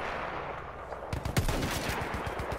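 Battlefield 1 shooting: after steady battlefield din, a sharp loud crack stands out, then rapid distant machine-gun fire rattles on in a quick rhythm.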